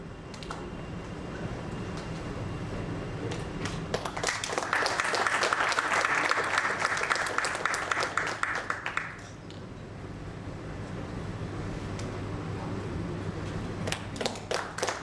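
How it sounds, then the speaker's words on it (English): Audience applause fills a hall at a startup funding panel event, steady clapping that swells to a dense, loud peak midway and then settles into thinner, continuing claps, with no talk over it. "the ones in the front row clapping with a lot of energy"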